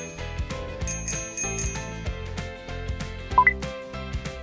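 Bicycle bell on a bike: several bright metallic dings ring out in a quick irregular sequence over a soft musical background, moderately close and clear, with no voices.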